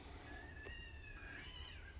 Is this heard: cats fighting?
yes